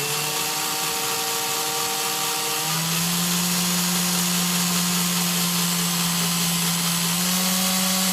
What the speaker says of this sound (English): you speed up the drill and it'll just kind of wrap itself.